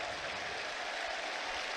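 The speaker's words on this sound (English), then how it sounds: "warm applause from the Albion fans as Danny Welbeck makes his way off the pitch" Albion fans at a Brighton & Hove Albion versus Manchester United FA Cup match applaud a substituted player, a faint, even wash of distant crowd clapping that carries through the stadium with no talk on top.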